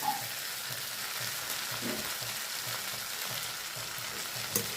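Leafy bete greens go into a frying pan with potato and fried lentil bori, giving a continuous close sizzle over a soft, regular thudding of stirring.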